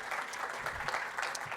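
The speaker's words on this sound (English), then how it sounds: "Let's give one more round of applause for Yuan Chen." Audience at a Kubernetes conference talk applauding steadily, a dense even patter of many hands clapping at moderate distance, with no voices over it.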